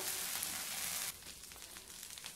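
Oats dosa frying on a pan over a medium flame: a bright, steady sizzle that drops suddenly to a softer, quieter crackle about halfway through, with no talking.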